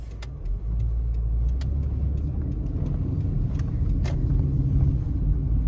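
Steady low rumble of a car driving along a road in Foster City, California, heard from inside the cabin, with continuous road and engine noise and a few faint clicks over it.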